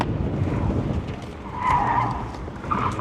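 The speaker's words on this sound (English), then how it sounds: "We're gonna go a bit of a slalom here." Tires squealing on a Chery Tiggo 7 driving a slalom at a Chinese motor show, two close screeches that swell and fade over engine rumble.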